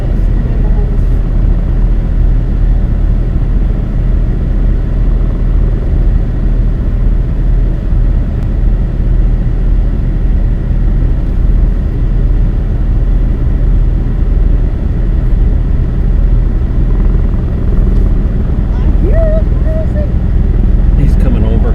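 A medical helicopter comes in to land over a forest, its heavy low rumble loud and steady throughout without fading.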